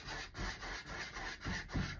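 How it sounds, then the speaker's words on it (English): A paintbrush is scrubbed back and forth over the edges of a canvas, making faint, rhythmic rasping strokes in a quiet room. "All right, I'm scrubbing."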